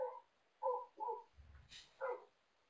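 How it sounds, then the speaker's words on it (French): A dog barks several times in short separate bursts, fairly close in a quiet indoor setting, with a low rumble and a faint high whine between barks. "Il y a un problème avec un chien"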